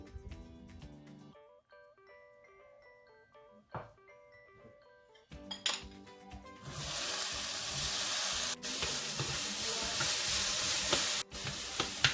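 Green pepper, red pepper and onion hit a hot pan and sauté with a loud, steady, close sizzle that follows a stretch of music, broken by a couple of sharp clicks.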